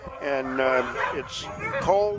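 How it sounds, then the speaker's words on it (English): Sled dogs bark and yip at a sled dog race in cold winter weather, several excited dogs calling over and between a man's speech close by. "the dogs love it, you can hear them in the background"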